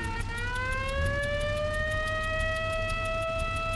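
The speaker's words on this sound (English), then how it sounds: "This siren noise is kind of getting annoying." A steady, continuous video game siren in a Cars CD-ROM game rising slowly in pitch and holding a long wailing tone, loud and close, with a faint rhythmic ticking behind it.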